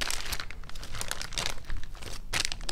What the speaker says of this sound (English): cut us off a chunk of this fat